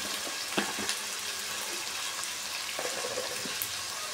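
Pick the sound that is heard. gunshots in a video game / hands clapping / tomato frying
tomato frying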